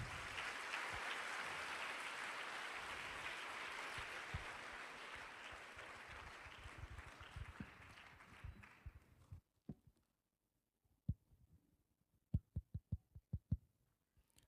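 A church congregation claps in sustained, dense applause that fades after several seconds into a few scattered, sharp individual claps, heard from within the hall.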